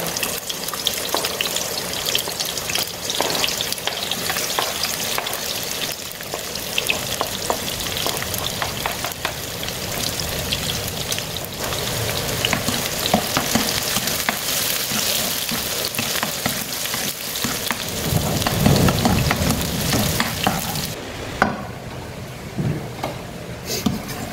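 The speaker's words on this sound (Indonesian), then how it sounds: "Kita tumis bawang merah, bawang putihnya dulu." Shallots and garlic sauté in hot oil in a pan as the opening step of an Indonesian stir-fried vegetable dish, giving a steady close sizzle and crackle that runs throughout, with occasional stirring clatter near the end.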